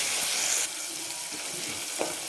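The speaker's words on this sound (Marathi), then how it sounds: "हे जे आपण आलं लसूण आणि कोथिंबीर वाटून घेतलं होतं ते टाकून घेऊ आपण आणि छान ह्याला परतून घेऊ" Ground ginger, garlic and coriander paste sautéing in a pan for a fish curry, a steady close hiss with a brief louder sizzle at the start and a faint stir.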